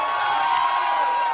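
An audience at a Gujarati lok dayro folk music gathering in Nisaraya, Anand, breaks into a dense, continuous burst of cheering and clapping, loud and close.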